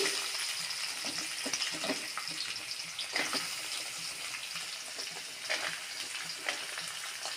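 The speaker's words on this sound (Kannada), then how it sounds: "ಈರುಳ್ಳಿ ಹಾಕಿ ಸರಿ ಫ್ರೈ ಮಾಡ" Onions sizzle in hot oil with garlic for tomato chutney, a steady bright frying hiss with soft stirring scrapes throughout, close and even, without any talking.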